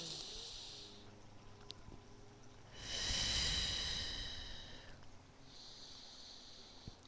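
Deep, slow breathing during a beginner yoga flow, with a long loud breath in the middle of soft steady breaths, close and audible over a faint hissing background with no talk.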